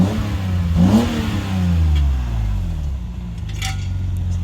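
A car engine revs up loudly through a deep, rumbling axle-back exhaust, then settles back toward a steady throaty idle, close by.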